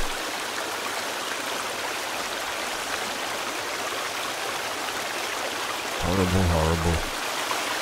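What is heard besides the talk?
waterfall in the video game Sons of the Forest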